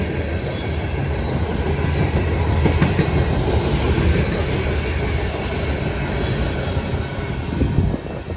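A very long freight train, 498 axles, rolls steadily past at close range, a dense continuous rumble of wheels and cars with faint squeals, loud and unbroken throughout with no voices.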